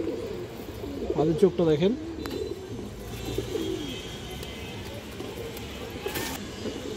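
Colorful pigeons coo close by in a short rolling burst early on, with softer bird sounds afterward, while someone speaks over the background.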